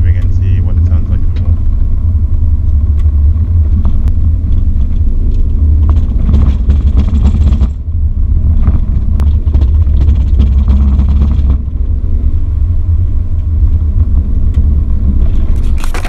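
A Holden VE Commodore with a failing driveshaft centre bearing and drive coupling rumbles loudly from the cabin at speed, with a heavy, steady low drone and a brief dip midway.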